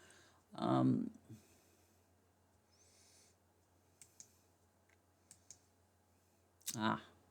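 Computer mouse clicking at a desk during page-layout work: a handful of faint, sparse clicks spaced a second or so apart, bracketed by two louder, duller knocks near the start and end.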